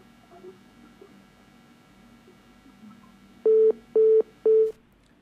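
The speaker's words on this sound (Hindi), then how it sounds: "फोन कट गया" After a phone call drops, a telephone line gives three short, evenly spaced loud tone beeps over faint background hiss, then falls quiet.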